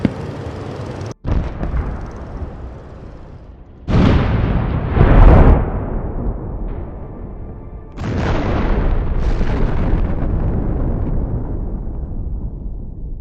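An armoured personnel carrier hitting a mine in a war zone, heavy rumbling blasts and booms in several loud waves with sustained roar between them, no talk.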